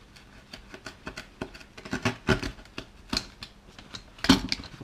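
A strap is cut while making a fishfinder mount for a float tube, a string of close snipping and rustling sounds that builds to louder cuts, with no talk.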